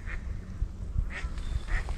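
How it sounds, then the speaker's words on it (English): Faint quacks from wood ducks on the River Murray come in three short calls spaced out over quiet outdoor background noise. "A couple of wood ducks just right here in front of me."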